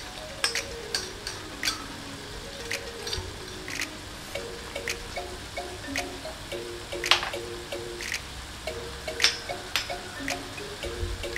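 Tuna balado with salt and palm sugar being stirred in a frying pan, with a steady low sizzle of hot oil under repeated scrapes and clinks of the spatula, close and moderately quiet with no talk.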